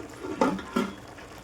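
A metal cooking pot lid lifted off a pot of chicken curry, two short clinking knocks close by in a quiet kitchen.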